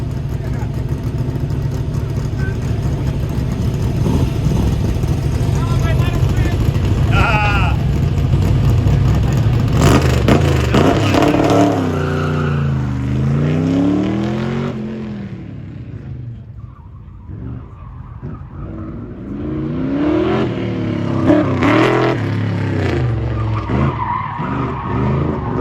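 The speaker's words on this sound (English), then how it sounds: "Eric Sheely on the line in the black Corvette." Black Corvette at speed on an autocross course at a Goodguys car show, engine revving and tires skidding loudly, with rising and falling engine pitch through turns and a public-address announcer talking over it.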